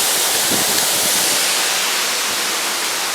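A waterfall roars in a dense, steady broadband rush, close and loud, with no voices over it.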